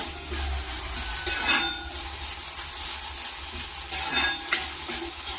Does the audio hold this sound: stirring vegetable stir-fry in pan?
yes